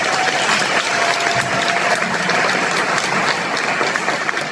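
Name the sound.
applause for a speaker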